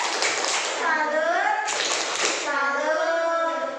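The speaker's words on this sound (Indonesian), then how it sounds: "Tepuk salut buat Ardiansyah." Fourth-grade children in a classroom clap together in bursts for a classmate while chanting in unison, with young voices over the claps.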